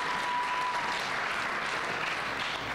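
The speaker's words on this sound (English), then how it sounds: "Give yourself a round of applause." An audience at a minimum wage bill signing event applauds in a steady, continuous wash of clapping that sounds moderately distant and even, with no talk over it.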